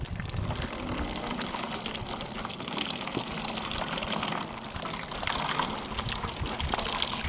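Water rushing steadily through a modified Vevo sluice, a continuous broadband gush that stays close and loud throughout with no talking.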